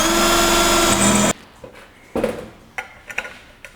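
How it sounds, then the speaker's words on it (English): A scrap valve cover is cut with a hole saw on a power drill in a shop: a loud, steady whining grind for just over a second, then it stops abruptly and scattered light knocks and clunks follow. "So I'll drill this and then I'll show you what we do next."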